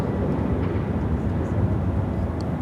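A British Airways Boeing 777-200ER jet at Chicago O'Hare airport gives off a steady, loud, low engine roar that holds evenly throughout, with faint airport background under it.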